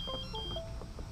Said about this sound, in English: you just heard my computer beep